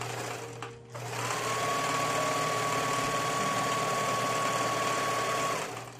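A sewing machine stitches a flannel drain bag pillow. After a brief pause it starts up and runs as one steady, close mechanical whir for about four seconds, then winds down.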